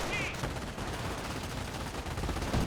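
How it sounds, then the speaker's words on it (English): Rapid bursts of MG42 machine gun fire and sniper shots from a Company of Heroes battle, a dense continuous rattle of overlapping gunfire with a brief high whine near the start. "Snipers firing away, MG42 sitting on up."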